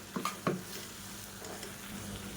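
Ground horse gram, coconut and toor dal paste hitting a hot pan for kuzhambu, a couple of quick stirring scrapes over a steady soft sizzle that carries on alone.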